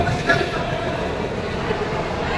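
A metro train rumbles at Howrah metro station, a low, continuous rolling hum beneath people talking nearby.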